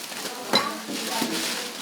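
Dishes clink and scrape as they are handled while donations are sorted, with a brief sharp knock among a few close rattles.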